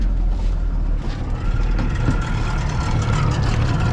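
Outboard engine on a Carbon Pro inflatable boat running steadily after start-up, a loud continuous low motor rumble with a broad churning wash, close by and alone.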